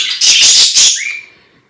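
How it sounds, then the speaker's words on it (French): Birds chirp and tweet outdoors in a quick, loud burst of high calls lasting about a second, then trail off into quiet. "J'espère que les oiseaux ne vont pas être trop bruyants."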